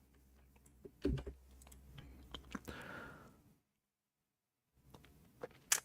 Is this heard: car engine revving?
no